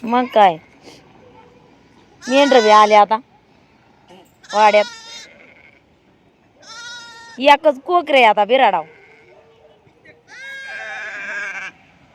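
Several loud sheep bleats, close by, coming in separate bursts with quiet pauses between them.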